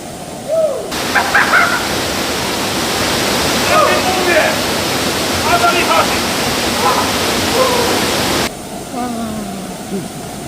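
A famous waterfall in Wales roars in a loud, continuous rush of pouring water heard up close from a swimmer beneath it, with brief vocal sounds breaking through the noise.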